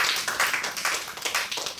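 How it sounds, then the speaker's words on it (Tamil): A group at a meeting claps together for a newly elected leader, a dense, fairly close patter of hand claps sustained throughout with no talking. "அவர்களுக்கு கைதட்டுகிறோம்."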